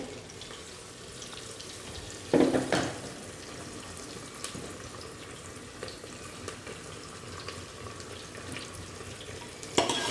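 Chopped onions and garlic fry in a pan for chicken qorma, a steady soft sizzle with a couple of louder sputtering bursts as the food is moved.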